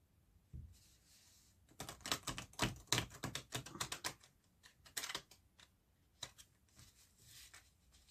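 A deck of tarot cards being shuffled by hand, with bursts of crisp riffling and flicking from about two seconds on, some pauses between, and no talk over it.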